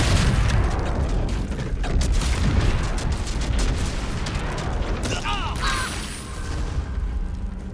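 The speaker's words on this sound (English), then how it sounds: "So these guys first release the gas and then they start exploding." Explosive mushrooms in Baldur's Gate 3 release gas and then burst, giving a loud, continuous barrage of booming blasts and rumble, with a few bright chirping effects near the end.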